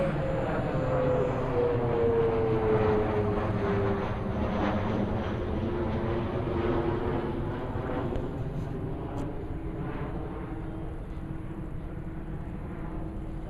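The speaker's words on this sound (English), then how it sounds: "B-25 taking off. And getting speed, and we have liftoff." A North American B-25 bomber takes off, its piston engines a loud, steady, broadband roar that holds throughout and eases only slightly toward the end.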